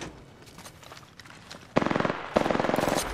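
Automatic gunfire in a squad-based shooter video game: quieter scattered shots and game sounds, then two loud rapid bursts of dense firing in the final second and a half.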